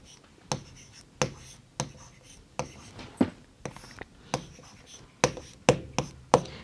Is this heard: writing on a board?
yes